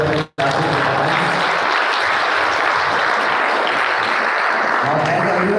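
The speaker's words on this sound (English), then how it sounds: "I want everyone to give them a huge round of applause for their fantastic performance" An audience applauds after a debate with sustained, dense clapping that holds steady at full strength after a brief break at the start.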